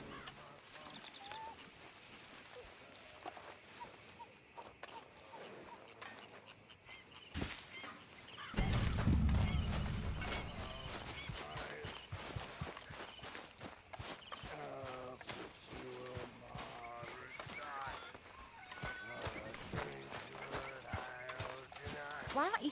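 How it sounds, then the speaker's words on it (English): Horses in Red Dead Redemption 2 shuffle and clop at a slow walk amid ambient outdoor game sounds, with occasional animal calls and a burst of louder rustling midway, while voices talk intermittently over them. "Them horses look mighty hungry."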